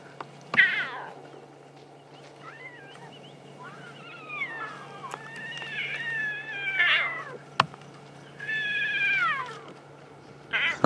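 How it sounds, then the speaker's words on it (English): Wild cats near a safari vehicle at sunrise give repeated meow-like calls resembling a house cat, several wavering cries in bursts, close and fairly loud, over a low steady engine hum. "Sounds like a house cat."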